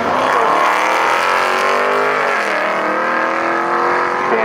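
A 2022 Honda Accord Sport 2.0T and a 2019 Dodge Charger Scat Pack drag racing at a strip, loud engines roaring and climbing in pitch through gear changes, one dominant rising drone heard alone.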